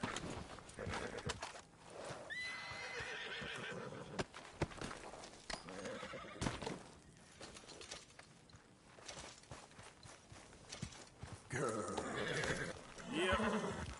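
Horse neighing and hooves clip-clopping in the Red Dead Redemption video game, with whinnies near the start and end over a busy backdrop of hoofbeats and other game sounds.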